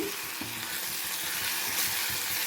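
Eggplant fry is stirred with cumin powder in a pan, a dense steady sizzle with soft repeated scraping strokes underneath, close up and without speech.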